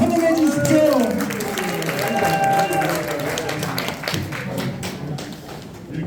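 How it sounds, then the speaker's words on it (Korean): A standing audience at a New Year social welfare workshop claps to welcome the district head, a dense patter of many hands under loud voices and cheering, steady throughout. "큰 박수로 환영해 주십시오"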